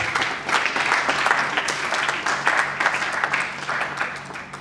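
Audience at a wedding celebration bursts into sustained applause and clapping, a dense, steady wash of many hands close by that carries for several seconds without a break.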